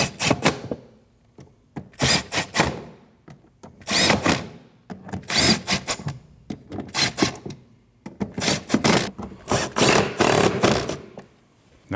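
Bolts being tightened during a serpentine belt replacement on a 2013-2019 Ford Escape, heard as a series of short, loud, rasping tool bursts in an uneven rhythm, separated by brief pauses.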